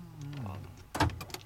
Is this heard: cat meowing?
no